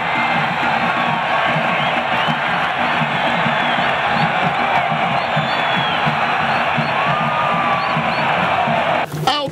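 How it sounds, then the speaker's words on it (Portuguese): River fans roaring after a goal at Albertão stadium, a dense, loud crowd of cheers and whoops sustained throughout, with a voice calling over the din. "Gol para a torcida tricolor explodir de alegria"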